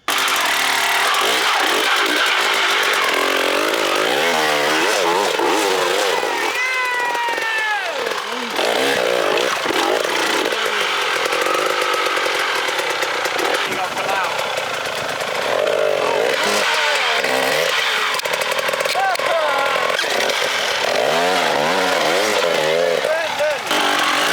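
A dirt bike rides through sand on a dirt track in Hanoi, its engine revving up and down in rising and falling whines with wheelspin, while a voice talks over it much of the time.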